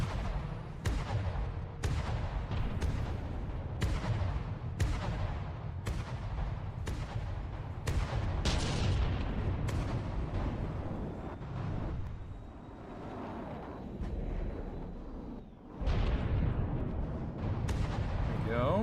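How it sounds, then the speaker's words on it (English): Gigawatt weapon in the From The Depths naval combat game firing a rapid string of heavy, booming shots, each a sharp crack over a constant low rumble, with a brief pause before the barrage resumes loud and close. "let's have it shoot the gigawatt again"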